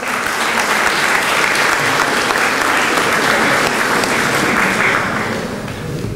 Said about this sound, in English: So give a round of applause for yourself.